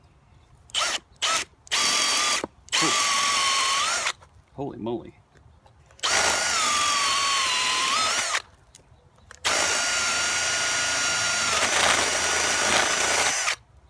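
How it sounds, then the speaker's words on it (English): A power drill in fast drill mode whirs at high speed in several bursts, starting and stopping, with a rising pitch as it spins up; a voice exclaims briefly between runs. "I'm going to try this on setting number 2. So that's the fast drill mode."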